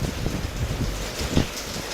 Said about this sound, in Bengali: রাতের সাথে সাথে বৃষ্টিও মনে হয় বেড়েই চলেছে।